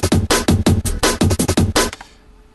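Sliced drum-and-bass break built from a chopped sample, fast punchy kicks and snares in a tight syncopated pattern of about a dozen hits, loud and dry, stopping abruptly near the end to leave a short quiet tail.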